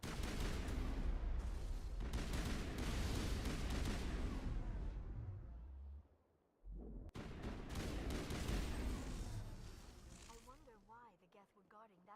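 Gunfire during a Mass Effect video game battle against Geth forces: rapid, loud bursts of shots and rumbling impacts, a brief lull near the middle, then more firing mixed with game voices talking over it.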